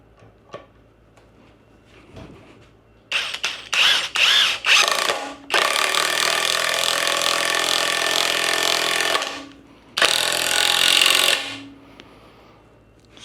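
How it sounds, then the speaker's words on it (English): A Seesii 3-in-1 power tool set on high drives a lag bolt into an undrilled board, giving loud buzzing, ratcheting bursts that stutter at first, then run steadily for several seconds before a pause and a final short burst. "no issues running that lag bolt in there"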